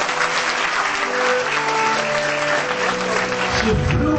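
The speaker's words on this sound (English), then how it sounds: "Clap for her." An audience claps at a charity day event in Nigeria, sustained loud applause with a faint tonal hum running underneath and a low rumble near the end.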